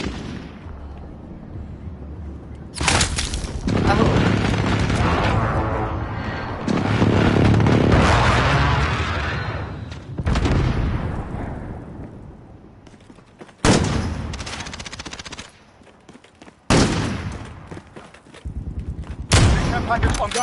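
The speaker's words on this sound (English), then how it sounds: "Enemy precision airstrike inbound." Precision airstrike explosions in Call of Duty: Modern Warfare land as loud, booming bursts several times over the stretch, with rumbling tails and quieter gaps between the strikes.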